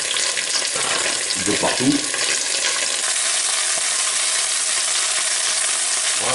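Chicken pieces sautéing in a pan for a chicken-with-olives dish give a steady, close, loud sizzle and crackle throughout, with a few stirring scrapes near the start and a brief voice.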